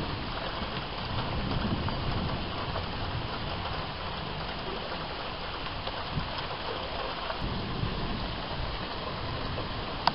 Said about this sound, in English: Oh, it's really getting rain now.